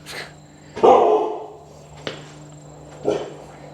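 A dog barks a few times nearby, one loud bark followed by shorter, softer yips spaced about a second apart.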